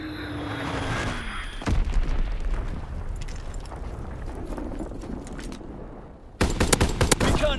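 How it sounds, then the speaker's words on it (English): Azon bomb dropped in Call of Duty WWII, giving a loud opening burst that rolls into a long rumbling blast with crackling debris, then a second sharp explosive burst near the end. "Dropping Azon bomb."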